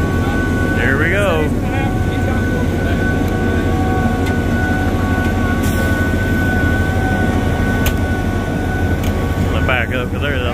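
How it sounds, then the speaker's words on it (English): A Putzmeister 38 meter concrete boom pump runs on an auger cast pile job, giving a loud, steady mechanical drone with a constant whine, heavy throughout and close by, with brief voices over it. "we're gonna kick the pump on"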